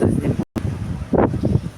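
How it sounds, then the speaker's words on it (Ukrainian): Storm wind buffets the microphone in a rose garden in low, rumbling gusts, with a brief dropout partway through and some muffled Ukrainian talk mixed in. "вже вітер такий, мабуть, що мене не чутно"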